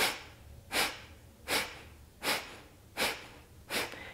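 Five sharp, forceful nasal exhalations in a steady rhythm during a yoga breathing exercise, each a short loud puff of air spaced under a second apart, close to the microphone with no talking.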